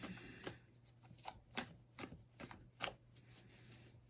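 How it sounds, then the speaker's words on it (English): Tarot-style cards shuffled by hand, a quiet series of sharp riffling snaps and soft slaps in an uneven rhythm, faint and close over a low hum. "Let's shuffle the cards here a little bit."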